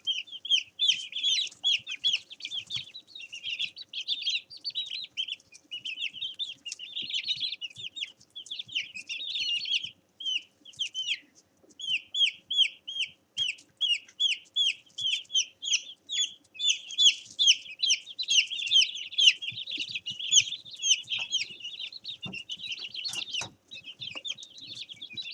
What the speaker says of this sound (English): So that long piping that you hear is them calling to each other to get underneath the chick plate and get to sleep.